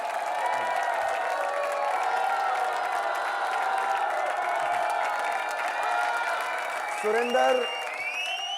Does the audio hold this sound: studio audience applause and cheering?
yes